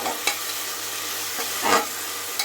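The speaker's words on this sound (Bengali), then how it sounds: "আর একটু ভাজা করে নেব পেঁয়াজটা" Onions fry in a pan with added paste, a constant close sizzle broken by a few soft scraping strokes of a stirring spoon.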